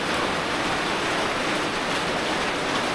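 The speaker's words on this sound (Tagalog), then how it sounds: "Oh my God, sana mag-stop ka na ulan." Steady rain pours down in a dense, even hiss, loud and unbroken with no voices.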